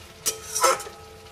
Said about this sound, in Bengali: এবার এটা আরেকটু কষবো।